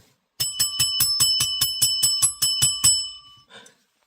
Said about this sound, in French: on sort la cloche